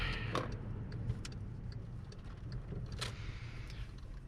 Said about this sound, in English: So even when the car is idling, the revs are pretty steady, even though it is misfiring once in a while.